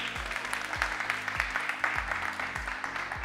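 An audience claps in a dense, lively burst of applause over music with a thumping bass beat.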